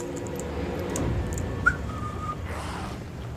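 A person whistles briefly during a playthrough of Alan Wake, a short thin tone over game background noise, with one sharp pitched blip near the middle.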